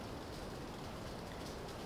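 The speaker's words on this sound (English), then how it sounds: "it's raining like crazy now." Heavy rain pours down outside as a steady, dense hiss of broadband noise, constant and unbroken throughout with no voices.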